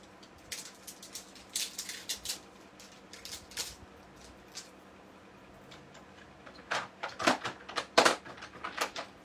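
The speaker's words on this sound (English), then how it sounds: "I just rattle around in my drawer of blocks to find the right block" Wooden stamp blocks rattle and clack as a hand rummages through a drawer, with scattered clicks early and a louder cluster of knocks near the end, close and with no talk.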